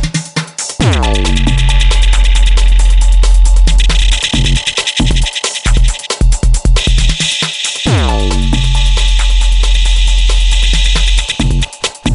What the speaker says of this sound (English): Dub echo.